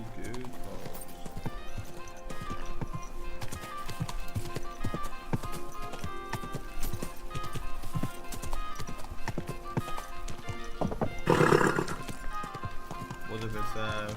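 Horse hooves clip-clopping steadily on the ground in Kingdom Come: Deliverance 2, with a loud whinny near the end and game voices speaking underneath.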